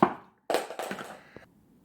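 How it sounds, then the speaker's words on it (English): Screwdriver dropped indoors while working on a plastic airsoft pistol holster, a sharp clatter followed by a short burst of rattling bounces and a final small tap, fairly close. "dropped his screwdriver"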